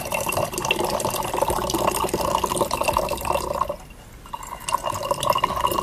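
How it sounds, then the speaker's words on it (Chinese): Water streams steadily from the spout of a purple clay (zisha) teapot, a continuous trickling pour that briefly cuts off and then resumes, close and clear. "看一下它这个导出来的水顺不顺呢"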